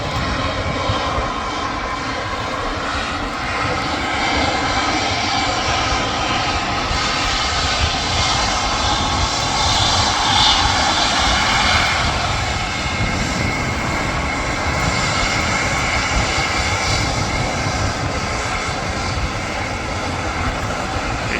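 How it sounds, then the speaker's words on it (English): An Air France Airbus A320 airliner's engines give a steady, loud, broadband roar. It holds evenly throughout, heard from outdoors at a distance. "It's, that's an Airbus A320 FHZUA."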